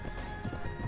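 Clip-clop of horse hooves with a whinny in the medieval war game A Clash Of Kings. The sound is brief and muffled, set against a steady background hum.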